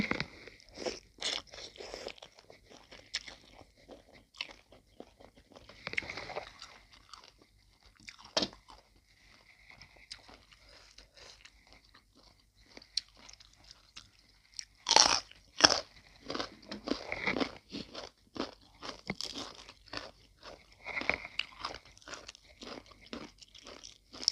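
Loud, close crunching and chewing of spicy papaya salad, with irregular bursts of bites and wet mastication and brief pauses between mouthfuls.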